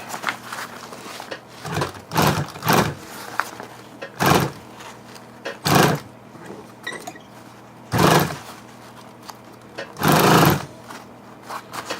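A sewing machine stitches through fabric in several separate bursts of rapid needle hammering, each lasting a second or so, with quiet pauses and faint handling noises between runs.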